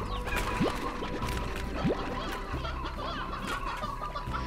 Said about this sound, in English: How many hens do we have in here?